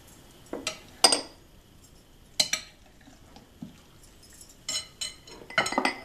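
A spoon mixes chopped green apple, orange and grapes in a bowl for a spicy yoghurt fruit salad, giving scattered clinks and soft taps against the bowl in irregular bursts, some sharp and bright, with no talking.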